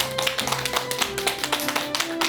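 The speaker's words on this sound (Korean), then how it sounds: "큰 박수로 맞이해 주시기 바랍니다" An audience claps briskly to welcome a family medicine specialist, Jung Yang-soo, onto a lecture programme, a dense rhythmic patter of hands with music playing underneath.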